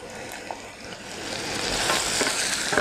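Ginger simmers in olive oil in a pan with a soft, rising sizzle and a few faint utensil taps, close but fairly quiet.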